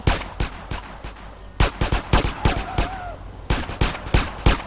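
Gunfire in the game GTA San Andreas: sharp repeated shots in irregular bursts, loud and close, with short gaps between volleys and no talk over them.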